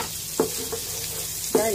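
Garlic frying in sesame oil in a pan, a low steady sizzle broken by a few short bursts of crackling and stirring, with no voices.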